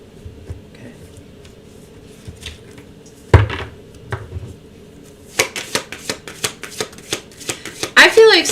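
A deck of cards is shuffled, with a single sharp tap and soft handling noises first, then a rapid riffle of crisp clicking snaps building at the end.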